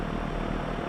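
Piston aircraft engine in the X-Plane flight simulator, throttled up to 2000 RPM before takeoff, giving a steady, even drone with no breaks.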